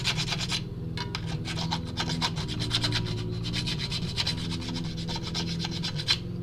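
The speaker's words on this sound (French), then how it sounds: "On va limer aussi la partie pour que la jonction soit quand même le plus jolie possible." Hand filing on a float tube camera mount part, steady back-and-forth rasping strokes in a fast, even rhythm, close and continuous with a low hum underneath.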